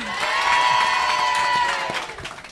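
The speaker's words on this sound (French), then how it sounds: "Je vous demande de l'acclamer comme il me l'a demandé" A studio audience at the Océanes de la radio show cheers and claps loudly, a dense crowd roar with whoops and sustained applause that swells early and slowly tapers.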